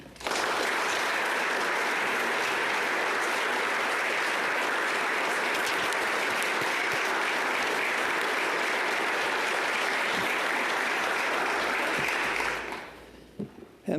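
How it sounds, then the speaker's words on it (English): An audience in the Senate chamber gives a round of applause, dense sustained clapping that holds strong for about twelve seconds, then tapers off quickly into near quiet. "a round of applause."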